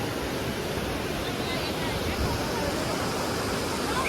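Steady broadband rush of the Yamuna river flowing at Yamunotri, loud and constant like surf or falling water, filling the whole span without a break.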